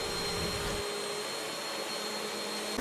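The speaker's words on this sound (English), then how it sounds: "First, you want to thoroughly vacuum." A vacuum cleaner runs steadily over carpet, a loud continuous whirring roar with a high whine, close and alone with no talk.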